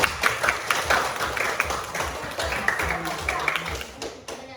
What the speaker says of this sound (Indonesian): sebagai ucapan terima kasih kita kasih aplaus